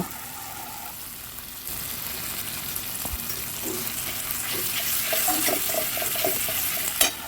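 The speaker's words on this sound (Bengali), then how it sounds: "আদা বাটা দিয়ে আবারও একটু কিন্তু ভালো করে কষে নেব" Potato and soybean curry with ginger paste being stirred in a pan, a continuous frying hiss with soft scraping strokes that gradually grows louder, ending in a sharp clink.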